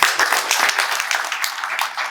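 An audience applauds during a head teacher's handover speech at a school, a close, loud and steady wash of clapping lasting the whole moment without speech.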